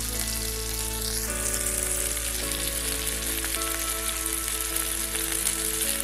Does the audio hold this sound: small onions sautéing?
yes